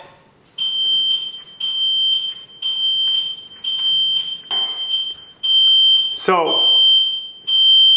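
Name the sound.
home alarm system water sensor alert beeping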